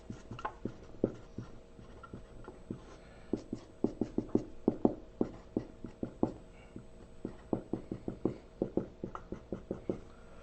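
A pen or pencil writes out a long division answer in a steady run of short, close scratching strokes, some tapping at a quick, uneven rhythm, with no talking.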